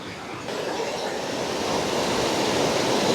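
River water rushes over stones near a broken bridge in Mullaitivu, a close, steady, full-bodied wash of noise that grows slightly louder and never pauses; no voices.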